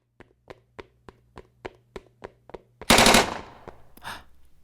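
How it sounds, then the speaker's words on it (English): Gunfire rings through a shopping mall: about ten sharp, evenly spaced shots crack one after another, then a louder blast roars and decays with a long echo, followed by one more burst. "They both could hear the gunshots echoing throughout the shopping mall."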